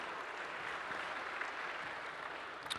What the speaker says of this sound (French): Vous pouvez aussi les applaudir, ils le méritent.